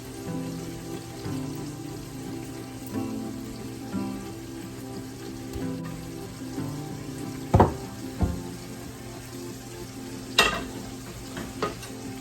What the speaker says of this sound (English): I'm going to grab another pan. And this one, we're going to put a chunk of butter.